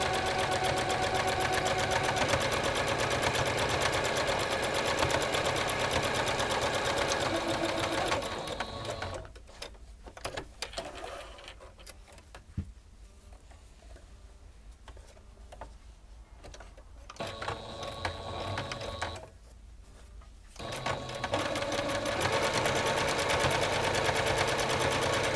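A sewing machine stitches lines along the side of a cloth pad near the seam that holds the absorbent layer. The steady, loud motor whir runs for several seconds, falls quieter through the middle stretch with brief pauses, then returns at full speed.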